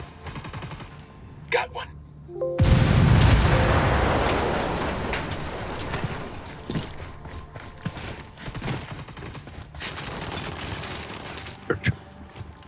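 Heavy gunfire and explosions in Ghost Recon Wildlands: a big blast followed by sustained automatic fire and scattered single shots, with voices shouting over the fight.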